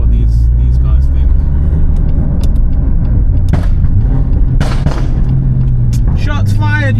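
A tuned BMW M240i with a custom stage 2 engine and gearbox tune rumbles loudly up close, its exhaust crackling and popping in sharp bursts over the heavy low drone, with voices talking over it.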